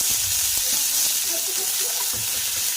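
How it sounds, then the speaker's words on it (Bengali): Chopped onions fry in a pan on the way to browning, giving a loud, even hiss with faint stirring bumps underneath. "পেঁয়াজগুলোকে আমি একটু ব্রাউন কালার করে ভেজে নেব।"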